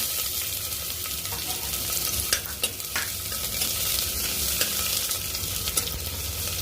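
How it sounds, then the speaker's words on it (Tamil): Chopped onion sizzles and fries steadily in hot oil with bay leaf, pepper and cumin, while a spoon scrapes and stirs through it in occasional sharp clinks against the pan, close and continuous with no talking. "வெங்காயம் கொஞ்சம் கலர் சேஞ்ச் ஆகட்டும், அது வரைக்கும் வதக்கிக்கோங்க."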